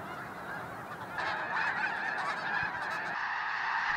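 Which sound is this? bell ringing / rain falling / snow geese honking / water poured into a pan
snow geese honking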